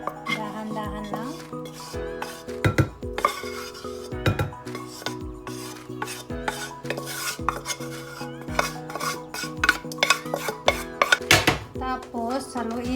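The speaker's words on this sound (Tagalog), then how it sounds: "Tapos ilagay natin ang yung minelt ko na chocolate. Paghaluin natin guys." A spoon scrapes and clinks against a bowl while melted chocolate is folded into homemade brownie batter, with a steady rhythm of rubbing strokes and sharp taps on the rim.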